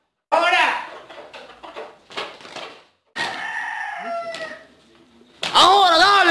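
Several fighting roosters crow loudly and close by, one after another, with clucking and shouting voices mixed in between the calls.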